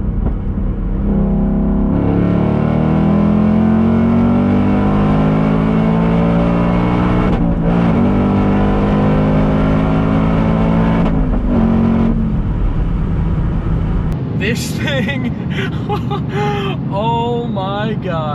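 A 2024 Ford Mustang Dark Horse accelerating flat out to redline, its loud engine note climbing steadily through the gears with brief shift breaks, then voices talking excitedly as the run ends.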